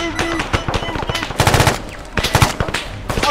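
Rapid automatic gunfire crackles through a shooter video game in dense, loud bursts with short gaps, while a player's voice talks over the shooting.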